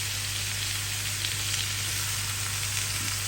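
Sisig fries in a pan with a steady, dense sizzle that holds at an even loudness throughout, close by, alone with no voices.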